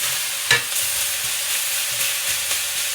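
Onions go into a hot pan with browned meat for Vietnamese bánh xèo and sizzle steadily, with a sharp clatter as they land near the start and occasional stirring scrapes afterward.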